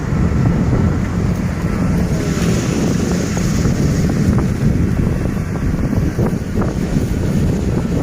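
Strong wind blows steadily across an open rice field during harvest, roaring and buffeting loudly throughout with heavy rumbling gusts and no break.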